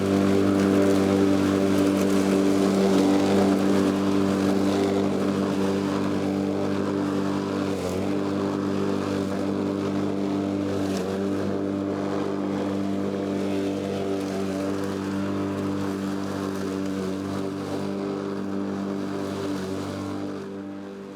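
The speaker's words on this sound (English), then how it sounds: "I'm mowing a path through the lawn" A lawn mower drones steadily as it cuts a path through a small wildlife-garden lawn, a loud, constant engine tone close by that eases off slightly toward the end.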